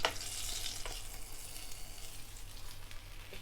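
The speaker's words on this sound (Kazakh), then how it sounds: "Қараңыздар, күшті болып қызарып қуырылды." Fish sizzles in hot frying oil in a pan, a steady, close hissing crackle that starts strongest and then settles into an even, fairly quiet fizz with no one talking.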